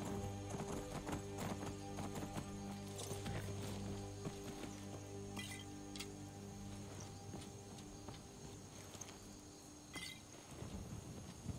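Horse hooves clip-clop at a steady gallop with a brief whinny, set in the Skyrim video game over a continuous low game soundtrack hum; no talk over it.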